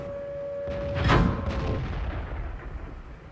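A single heavy tank cannon blast in World of Tanks booms out loud and close, then its rumble and echo tail off slowly over a couple of seconds.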